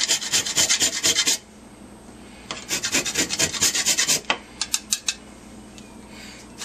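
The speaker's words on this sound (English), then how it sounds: "now I'm going to need a half a teaspoon of nutmeg. Got my little microplane going" Fresh nutmeg rasped on a microplane in a home kitchen while cooking Greek pastitsio, a quick run of scraping strokes, then a second burst, then a few separate short scrapes, close and alone.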